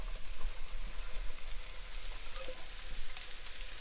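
Carrots and onions cook in a pot, giving a soft, fairly faint continuous frying sizzle with scattered light crackles and an occasional utensil tap.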